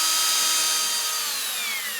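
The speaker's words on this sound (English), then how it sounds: "I'll just feather the drill back and forth to maintain that nice smooth radius we have on the end" Power drill spinning steadily while 220-grit sandpaper is held against a turning workpiece for a smooth finish, a bright high whine with a soft abrasive hiss, easing slightly as the drill is feathered back and forth.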